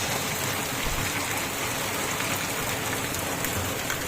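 Heavy rain pours down steadily, a dense, unbroken hiss of drops drumming on surfaces nearby.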